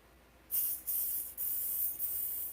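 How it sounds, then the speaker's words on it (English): A spray gun is tested during a bathtub repair, letting out a loud, close, high hiss that begins after a short quiet moment and comes in three or four long bursts separated by brief dips. "Okay, looks like we're spraying."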